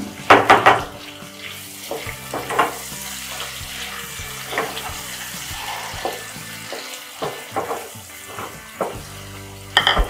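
Onions fry in oil with cumin for a dhaba-style arvi curry, a low sizzle punctuated by bursts of spatula scraping and stirring at irregular intervals, close by and without talk.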